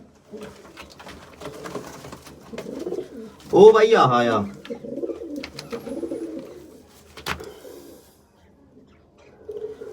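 Pigeons coo in a home loft where a breeding pair and hens are kept, soft low calls running under close, steady Punjabi speech, with one louder burst of cooing partway through.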